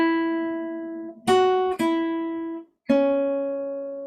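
A guitar plays a slow song in 3/4 time, with single sustained notes ringing out and fading, three plucks spaced apart, close and clean with no talking.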